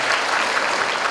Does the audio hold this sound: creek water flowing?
no